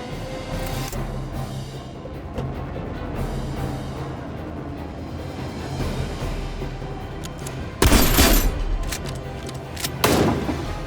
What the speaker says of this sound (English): And then I could use the Gatling gun to finish.